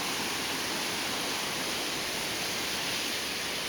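A river at an eco park in Laguna flows with a steady, broad rushing wash of water, constant and even throughout with no voices.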